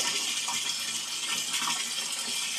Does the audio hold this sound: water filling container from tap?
yes